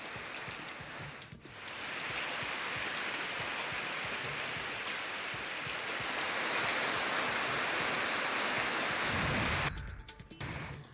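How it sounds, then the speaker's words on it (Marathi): Heavy monsoon rain pours steadily in Dapoli, Ratnagiri, a dense, loud wash of drops hitting surfaces that holds for about nine seconds before cutting off abruptly near the end. "सकाळपासून पावसाला सुरुवात झाली आहे"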